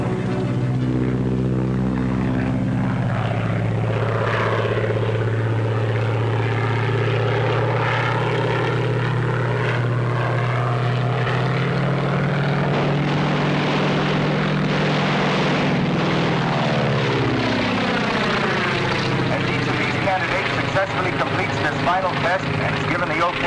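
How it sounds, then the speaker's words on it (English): Propeller fighter planes diving over a field during a 1939 gunnery test, with loud continuous engine roar rising and falling in pitch as they pass, heard alongside a voice. "The first three candidates are approaching the field from your left."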